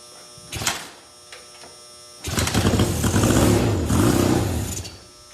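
A few short mechanical sputters, then the small engine of a Nova car, choke off, catches and runs with a loud, rough, buzzing idle for several seconds.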